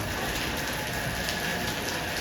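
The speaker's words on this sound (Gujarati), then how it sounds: "મિત્રો અત્યારે ચાલુ વરસાદ હતો" Steady, dense rain falls throughout, a continuous close hiss of drops hitting surfaces with no voices present.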